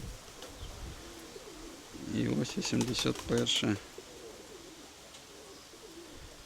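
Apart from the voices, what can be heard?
feather-footed pigeons cooing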